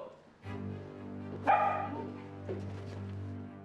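A dog barks and yips in short bursts, fairly close, with a sharper, louder yelp midway through.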